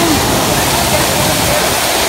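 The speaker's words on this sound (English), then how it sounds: "A nice waterfall too." A waterfall in a forest with animals nearby, a loud, constant rushing roar of falling water that stays steady and close throughout, with a voice now and then over it.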